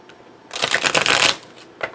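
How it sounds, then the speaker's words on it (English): A deck of tarot cards riffle-shuffled close up, one quick burst of crisp fluttering card slaps lasting under a second, then a faint single flick after a brief pause. "Let's get some more shuffles in there"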